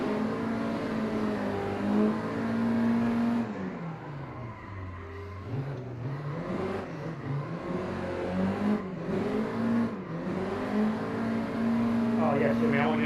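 V8-swapped Mazda MX-5 NA in a racing sim, engine droning and revving with rising and falling pitch as it accelerates and lifts, steady and close, with voices talking over it.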